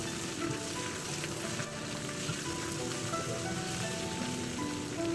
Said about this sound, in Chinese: 倒入羊肉，翻炒1分钟，肉块开始上色，将大部分肉块炒至焦黄色。